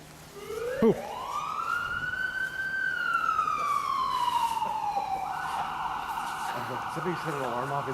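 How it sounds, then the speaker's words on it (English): An alarm siren goes off inside the old Lindsay Gaol, with one long wail that rises, holds, then slides down into a steadier tone, heard from a moderate distance under faint background noise. "Somebody set an alarm off"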